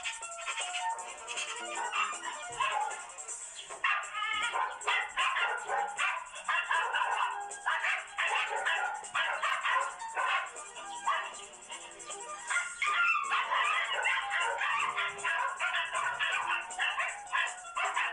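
Several dogs bark and yip in a 1984 animated cartoon, a steady run of sharp barks and whimpers over a thin music bed, moderately loud throughout.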